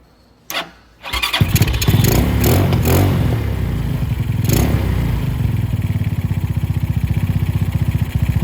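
A cold Venom X22r two-stroke engine with a Nibbi carburetor sputters to life after a brief crank, then settles into a steady, rapid idle around 1500 rpm with a rattling, buzzy pulse, close and loud.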